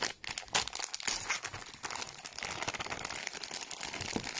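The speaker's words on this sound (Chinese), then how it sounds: "我撕开给大家看看啊。" Crinkly plastic packaging of a Qingfeng Liushen cooling wet wipes pack being torn open, a steady run of close, loud crackling and tearing rustles with no talk.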